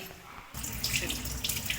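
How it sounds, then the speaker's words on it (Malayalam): Water is poured over a freshly cleaned gas stove burner, starting abruptly after a short quiet moment as a steady, close, hissing splash of running water. "ഇനി ഒന്ന് വെള്ളം ഒഴിച്ച് കാണിച്ചു തരാം"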